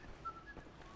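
An enemy soldier whistles somewhere in a Wolfenstein The New Order level, a thin faint tune drifting over low game ambience, with brief soft footsteps or shuffles near the middle.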